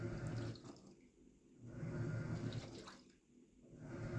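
A Black+Decker 2.0 cu. ft. small portable washer churns through its wash cycle, soft sloshing water rising and falling in slow waves, fairly faint and close.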